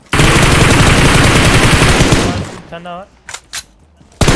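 Dense, loud automatic gunfire from a multiplayer shooter game fills the first two and a half seconds, followed by a brief spoken line, a couple of scattered shots, and another burst of fire at the end.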